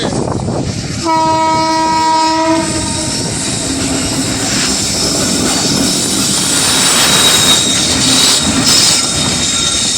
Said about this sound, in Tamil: ரயில் வருது அருமையாக இருக்குது